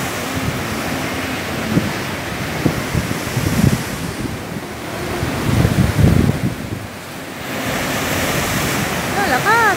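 Strong ocean waves crash and surge onto Sliema beach in Malta, a loud, continuous roar of surf with wind buffeting the microphone, swelling in bursts and briefly easing before building again; a man exclaims over the noise.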